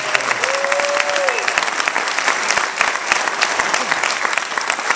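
A theater audience applauds at the end of a hospital talent show, dense steady clapping filling the hall for several seconds with a faint whistle rising briefly early on.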